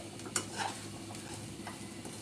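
Lachha semai vermicelli sizzles softly as it fries in a pan, with close, intermittent scraping as it is stirred and a sharp clink of a utensil against the pan near the start.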